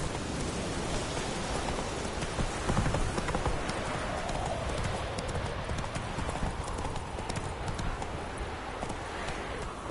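Horse hooves clip-clop steadily at a brisk riding pace in The Witcher video game, heard close and continuous beneath a hiss resembling rainfall.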